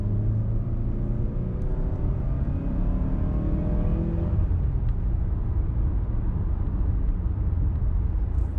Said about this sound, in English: we're gonna do another good acceleration, just so we can hear the engine again